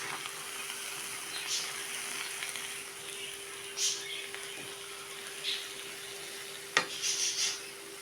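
Vegetables sizzle gently in olive oil with a squeeze of lemon, a soft, steady frying hiss with occasional stirring scrapes and a sharp clink of a utensil against the pan near the end.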